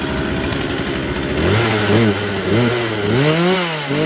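Stihl-type chainsaw engine pulled to a start, firing up and revving loudly with rising and falling pitch after a brief rattling pull, close by and alone.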